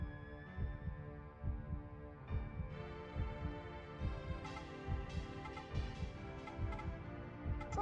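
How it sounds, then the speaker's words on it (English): Soft rhythmic heartbeat thumps pulse beneath layered melodic background music from the video game Jade Cocoon, steady and continuous with no voices. "there's a heartbeat in the background of this piece of music"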